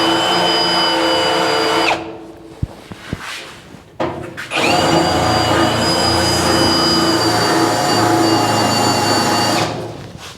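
A power drill whines loudly while widening holes in sheet metal on a 1953 GMC front end, running in two long bursts with a short gap of clicks and handling noise between them.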